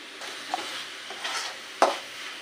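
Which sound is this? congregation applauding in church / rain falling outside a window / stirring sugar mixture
stirring sugar mixture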